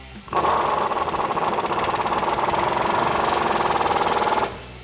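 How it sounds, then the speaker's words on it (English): Impact wrench with a 21mm socket and extension tightening the top strut bolt on a Silverado 1500 front suspension: one continuous loud, close hammering burst of about four seconds, starting and stopping abruptly. "Now go up top with your 21mm socket and extension. Tighten down this top bolt"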